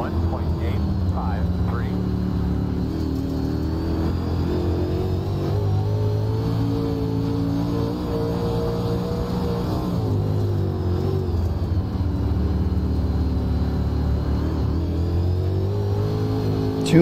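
UMP modified dirt race car engine in the iRacing game at Williams Grove Speedway, droning loudly and continuously with rising and falling throttle while a voice talks over it.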